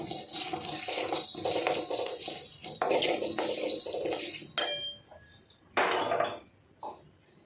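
Spices being dry-roasted in an iron kadai, with a spatula clanking and scraping against the pan in quick irregular strokes, dense at first and then sparser, each scrape bright and close.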